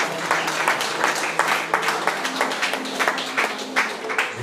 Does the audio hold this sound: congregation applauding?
yes